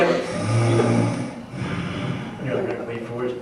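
A man imitates his roommate's snoring with his own voice, giving drawn-out nasal snores and snorts in close, fairly loud bursts, with breathy pauses between them.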